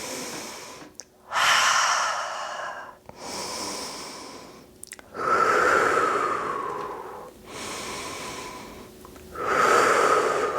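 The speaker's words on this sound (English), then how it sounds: "We'll take 5 rounds of breath right here." Slow, deep breaths during a chair-supported yoga flow, each long inhale and exhale rising and fading in a calm rhythm, about five full breaths, close and clear with no talking.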